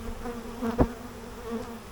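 Honey bees around burr comb in a hive make a faint, steady low buzz with a brief louder swell near the middle, no voices present.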